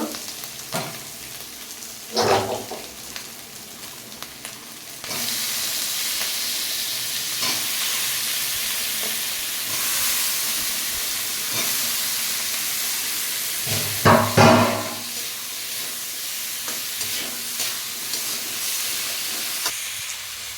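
Malabar spinach and potatoes fry in a pan with browned onion and ginger paste, giving a steady, close sizzle broken by a few clattering stirs of the spatula.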